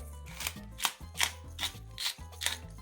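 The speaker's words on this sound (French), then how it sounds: "je vais venir mouliner un tout petit peu de mélange 5 baies" Rhythmic grinding of a pepper mill cracking a five-berry peppercorn blend over curried chicken skewers, about six crunchy twists in quick regular succession, close and fairly quiet with no talk.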